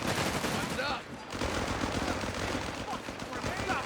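American M3 machine guns fire in Company of Heroes 3 as sustained, dense bursts of gunfire with a short dip near the one-second mark, loud and continuous with battlefield noise beneath.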